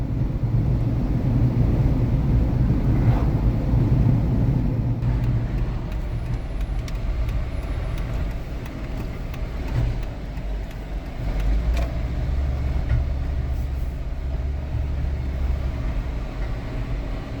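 A Jeep drives along the road toward Tombstone, its steady engine drone and road rumble continuous and fairly loud from start to finish, with no talking.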